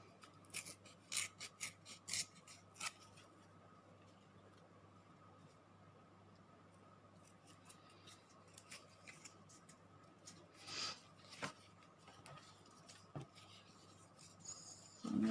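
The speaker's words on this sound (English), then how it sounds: "So I want to rip off some more of that writing." A vintage book page is torn by hand for junk journal pockets and tags, giving scattered close ripping and rasping bursts over a quiet low hum.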